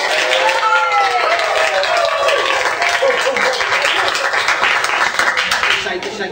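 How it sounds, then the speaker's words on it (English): Wedding guests break into loud, dense applause after a best man double-act speech, sustained clapping with people talking over it throughout. "As much applause as possible would be great."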